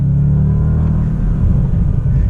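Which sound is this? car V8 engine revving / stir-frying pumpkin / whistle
car V8 engine revving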